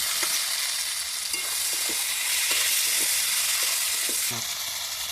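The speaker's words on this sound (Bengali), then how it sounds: "এখানে যে বাকি মশলা বাটাটা ছিল আমি এর মধ্যে দিয়ে নেব দিয়ে ভেজে নেব" Spice paste for a village-style mutton curry with papaya sizzles and fries steadily in a pan, a loud continuous hiss with faint stirring clicks and no talk over it.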